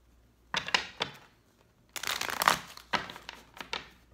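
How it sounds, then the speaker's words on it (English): Tarot cards are shuffled by hand in short papery bursts, a couple of brief riffles followed by a longer, louder run, heard close up without talking. "I'm just going to shuffle one more time"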